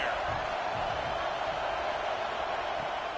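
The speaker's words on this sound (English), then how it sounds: "this crowd trying to help keep him there" A stadium crowd roars at a Rutgers college football game, a dense, steady wall of cheering that holds at one loud level throughout without letting up.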